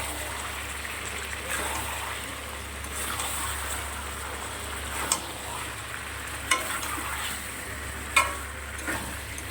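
Chicken curry with cubed capsicum and onion sautéing in a pan, giving a steady close sizzle and frying hiss with a few sharp stirring clinks of a spoon against the pan, no voices.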